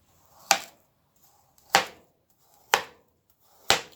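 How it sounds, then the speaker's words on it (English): Knife chopping through a frozen banana on a board, four sharp, hard thuds spaced about a second apart, close and clear with quiet between. "So I'm going to cut the banana up"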